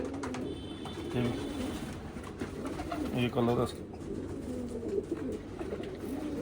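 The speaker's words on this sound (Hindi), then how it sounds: "ये जामनी है कबूतरी है" A Jamuni female pigeon coos in soft, low, repeated phrases close by, while someone talks over and between the calls.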